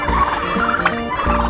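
Turkeys gobble on a village farmyard, several near, loud bursts of rapid throaty gobbling overlapping one another in a steady chorus with no talk.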